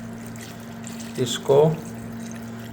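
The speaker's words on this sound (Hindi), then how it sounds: "अभी हम इसमें पानी ऐड कर देंगे" Water poured into sizzling mutton karahi in a pan, a short splash and gurgle of about a second right after someone speaks, over a steady background hum.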